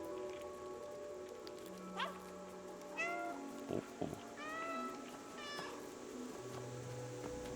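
Several distinct cat meows from the video game Stray, with a person briefly murmuring in between, all over a quiet, steady rainy ambience.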